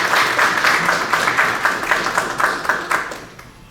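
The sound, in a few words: applause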